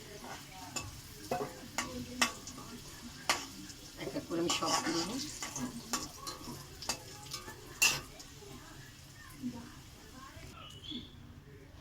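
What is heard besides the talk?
potatoes frying and being stirred in pan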